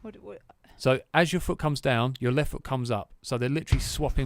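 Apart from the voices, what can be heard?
No everyday noises stand out.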